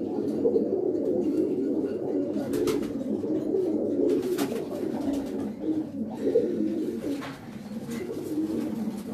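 Feather-footed breeder pigeons cooing close by, a continuous low throaty murmur from several birds with occasional chirps and rustles.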